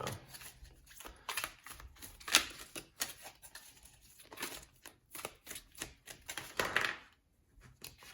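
Quick bursts of riffling and snapping tarot cards being shuffled, close and fairly quiet, repeated several times with short pauses in between.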